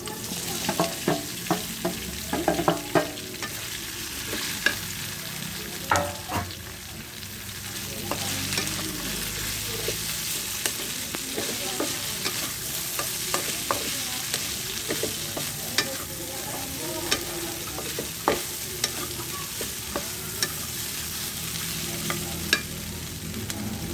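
Diced firm tofu sizzles steadily in a pan for tofu sisig, with frequent spatula scrapes and stirring clicks over a constant frying hiss; no talking.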